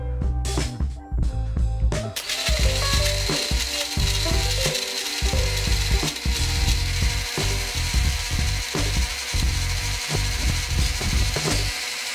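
A blender crushes about a cup of ice for a piña colada. The grinding is loud and steady, with choppy low pulses as the ice breaks up, and no one talks.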